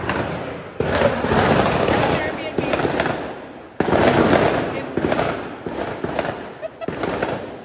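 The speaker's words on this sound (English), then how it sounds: "In case you're wondering what that sound is outside, it's fireworks" Fireworks bursting outside a rented apartment in Naples, Italy, a dense run of booms and crackles with thuds that come in waves, fairly close and loud, with brief lulls between volleys.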